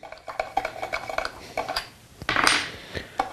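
An Allen key slackens the blade nut on a Makita SP6000 plunge saw while the spindle lock is held, giving a string of light metallic clicks and clinks, close and isolated, with a louder rattling scrape near the end.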